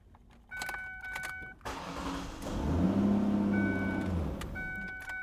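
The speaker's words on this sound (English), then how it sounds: "looks like all the keys start the car" A Ford car's engine starts on a newly programmed key: keys jangle first, then a chime sounds, the starter cranks, and the engine catches and settles into a steady idle.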